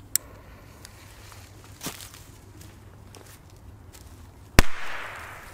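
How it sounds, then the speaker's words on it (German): Several firecrackers go off over about five seconds: a sharp crack near the start, a softer pop in the middle, then one loud, close bang that rings and decays, all outdoors with no talk. "Ja, dann gibt es jetzt die nächsten Böller."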